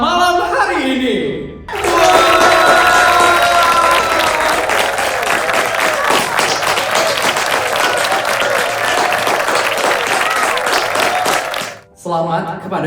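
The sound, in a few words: applause for the newlyweds at a Balinese wedding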